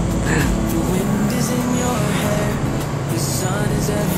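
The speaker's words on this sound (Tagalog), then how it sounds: "Traffic na oh." Road traffic on a street near Barangay San Miguel, a loud, steady roar of passing cars and buses with a rumbling low end, close and continuous throughout.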